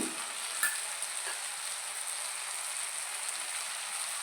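Dried fish and eggs fry in a pan, a dense, even sizzle like steady rain hissing close by, with a brief clatter near the start and no talking.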